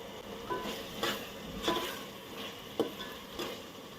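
Tomatoes frying on a medium flame for country chicken curry, a soft low sizzle broken by light spoon stirs and taps at roughly even intervals, fairly faint.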